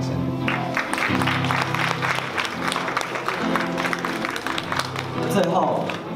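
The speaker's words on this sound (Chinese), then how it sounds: "请给自己一个掌声。" Audience applause at a high school guitar club showcase concert, a crowd clapping continuously while guitar chords and a voice carry on over it.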